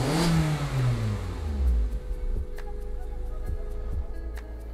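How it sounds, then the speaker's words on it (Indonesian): A car engine is revved to high RPM before shutoff, a loud rising roar that sweeps up and drops back, settling into a steady idle with faint rhythmic ticking. "Menginjak gas sampai RPM tinggi sebelum mematikan mesin."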